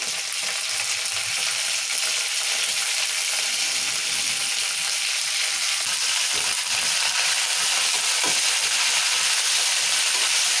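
Coriander and curry leaves hit hot oil with peanuts while tempering for pulihora, producing a loud, steady sizzle and crackle that continues throughout with occasional soft stirring scrapes.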